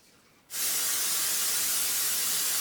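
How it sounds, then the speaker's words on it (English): Cooking spray hisses steadily and loudly from an aerosol can as bread pans are coated, a sudden continuous burst after a brief quiet start. "make sure you spray your pans down"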